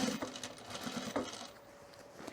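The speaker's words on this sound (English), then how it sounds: "So sew a 1/4 inch, pull." A sewing machine stitching a quarter-inch seam along a pant leg on a half pant form, running in short mechanical bursts with brief pauses between, close and clear with no talking.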